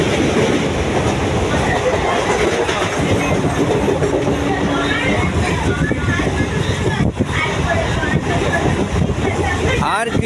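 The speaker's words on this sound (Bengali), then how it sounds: "আমাদের ট্রেন মুন্ডেশ্বরী নদী পার হচ্ছে।" A passenger train rumbles across a bridge over the Mundeshwari river, a loud, continuous roar with rhythmic clatter from the wheels, heard from on board with voices talking over it.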